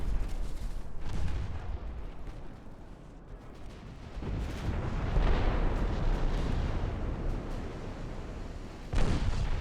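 Torpedo hit exploding against a warship in Ultimate Admiral: Dreadnoughts, a deep rumbling naval battle of booming blasts that swell in the middle and end with a sharp, heavy burst.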